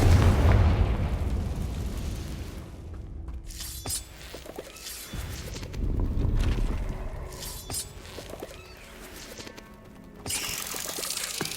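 A Confringo spell blast from Hogwarts Legacy erupts with a loud booming, shattering burst at the start, then crackling debris and further bursts follow, with another surge near the end.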